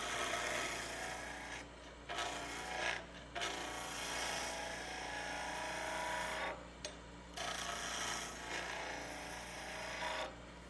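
A wooden lidded box spinning on a lathe as a large high-speed steel skew chisel cuts it, a steady soft scraping hiss over a low motor hum, broken by several brief pauses as the tool lifts off.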